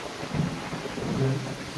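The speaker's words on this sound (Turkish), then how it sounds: "Yağmur da başladı." Rain falls steadily at night in a cemetery while low thunder rumbles in the distance, a soft continuous patter with deeper rolling swells underneath.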